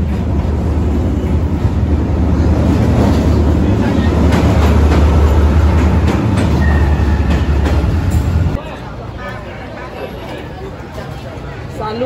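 A train rumbles through a narrow street in Hanoi, a loud, steady roar of wheels and engine for several seconds before it abruptly drops to a quieter background of city noise.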